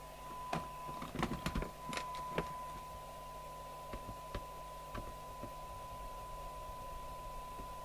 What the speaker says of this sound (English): we'll get some screws in this